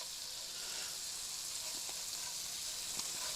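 Vermicelli and rice browning in a pan over an off-grid cooking setup give off a steady, close broadband sizzle with faint crackles and occasional small pops, continuous and without talk.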